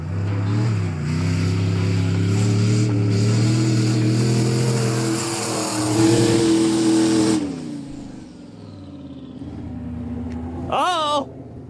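A turbocharged mini truck engine revs hard climbing a hill, a loud droning whine rising and holding for several seconds, then the throttle drops off and a brief high squeal follows near the end.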